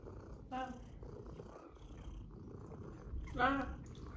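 Pet cat purring close by, a soft rumbling drone with two brief vocal chirps or meows standing out, faint and intimate with no talk over it.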